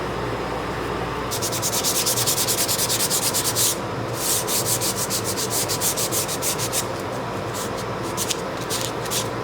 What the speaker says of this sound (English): Little burns there, but I can sand that off.